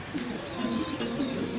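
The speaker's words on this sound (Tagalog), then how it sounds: "Pakagandang ibon." A pigeon in a pigeon loft gives soft repeated low coos in a steady rhythm, moderately close over a constant background hiss.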